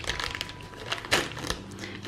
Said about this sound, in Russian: Открываем последний пакетик.